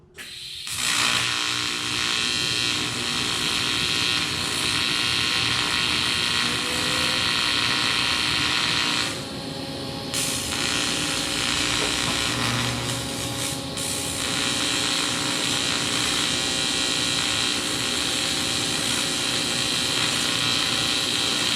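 A pipe fusion machine works on a dirty pipe with a steady, loud broadband hiss and whir that runs almost continuously, briefly shifting in tone partway through, with no talking.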